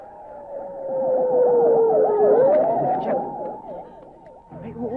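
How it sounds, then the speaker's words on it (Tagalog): An ambulance siren wails loud and close, a sweeping tone sliding down then back up into a fast alternating yelp, with no voices over it. "Ay, oo, ambulansya nga."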